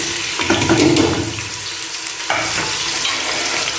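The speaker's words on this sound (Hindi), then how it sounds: "प्याज को हम जो है भूनेंगे इसके अंदर" Sliced onions frying in hot oil in a pan, a loud close sizzle with scraping stirs and a wet rushing hiss that briefly dips, then resumes, no speech.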